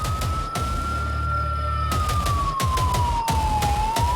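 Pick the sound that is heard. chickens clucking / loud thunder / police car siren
police car siren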